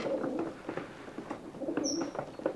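A breeding pigeon coos in soft, low, repeated throaty phrases, fairly faint and close, with one brief higher chirp partway through.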